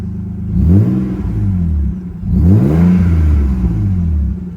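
A 1991 Nissan Laurel Medalist Twin Cam engine revs twice, each blip rising smoothly then settling back to idle, close and fairly loud with no talk.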